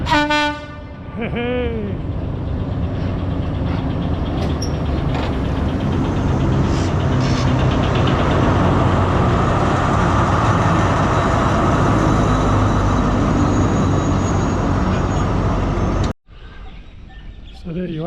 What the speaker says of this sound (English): Seen a railway, seen a train crossing it.